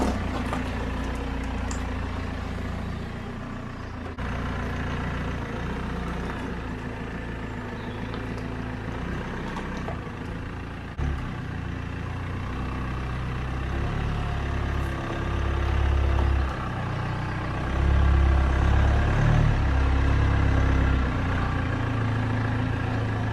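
A BMW 120d E87 diesel hatchback idling steadily for about twenty-three seconds, a low continuous engine rumble close by that swells slightly louder toward the end as the car is moved onto a driveway.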